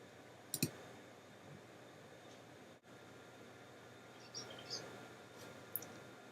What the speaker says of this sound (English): In my case, I just need to right click it and select open.